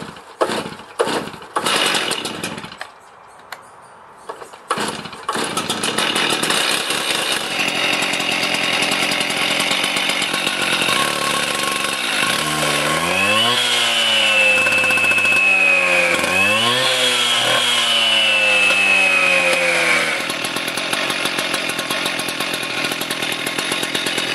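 A Stihl TS-420 cut-off saw, just repaired after a pull cord fix, is started with a few sputtering pulls, then its two-stroke engine runs loud and close, revving up and down before settling into a steady idle.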